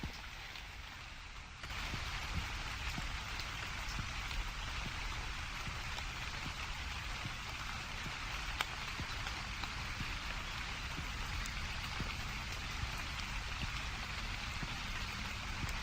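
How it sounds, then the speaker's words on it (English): Steady, dense rainfall patters alone throughout in the video game The Convenience Store, growing slightly louder after the first moments, with no voices. "the rain does look nice as long as you don't focus on it too much"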